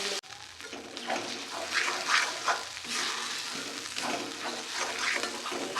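Ground green pea paste stirred and fried in hot oil in a home kitchen pan, a steady close sizzle with repeated scraping strokes of the spoon and no talk.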